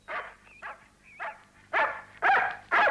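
Lancelot, a dog in an animated cartoon, lets out a series of six sharp barks and yips, the first three lighter and spaced out, the last three louder and closer together, with no speech over them.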